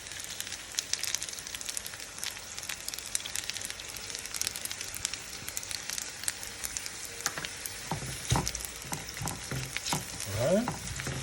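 Cream poured into a hot pan for fettuccine Alfredo with shrimp gives a steady, moderately quiet sizzle and bubbling, with a few brief clinks and scrapes toward the end and no voices.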